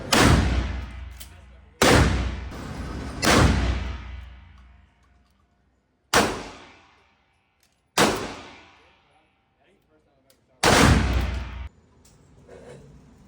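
A MAC1014 pump-action shotgun firing slugs and birdshot outdoors, six loud booming shots at uneven intervals, each with a long fading echo and brief quiet in between.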